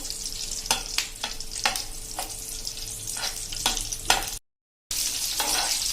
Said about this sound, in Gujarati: તો આપણા કાંદા લાઇટ પિંક જેવા આમથા હલકા એવા આપણે ફ્રાય થઈ ગયા છે